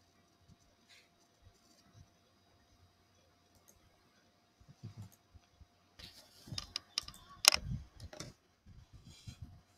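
Someone typing on a computer keyboard: sparse, quiet key clicks at first, then denser bursts of tapping grow louder, with one sharp clack near the end.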